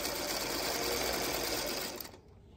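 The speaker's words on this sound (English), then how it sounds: "all I do is just put my finger on it and run it under the presser foot" A sewing machine stitches patchwork pieces in one steady, loud, continuous whirring run for about two seconds, then stops, leaving only faint room tone.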